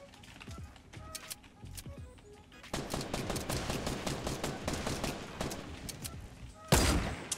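Rapid Fortnite gunfire crackles in a dense burst of repeated shots after a quieter opening, ending with one louder sharp blast near the close.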